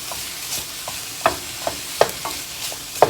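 Sliced andouille sausage, a pound in bite-sized pieces, browns in a pan with sharp repeated clacks of stirring over a soft, steady sizzle, fairly close and with no talking.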